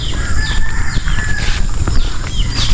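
Chickens and turkeys at a farm at feeding time, with a few scattered crows and clucks and short bird calls over a steady low rumble of outdoor background noise.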